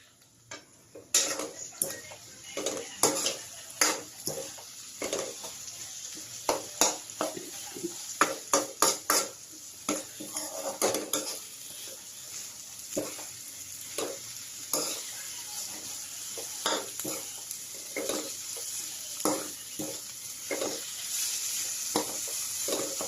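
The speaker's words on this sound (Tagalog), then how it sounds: "Then mix ulit natin hanggang sa maluto yung itlog." Eggplant sisig with egg is stirred in a frying pan, a spatula scraping and clinking in quick irregular strokes over a steady close sizzle that grows fuller toward the end.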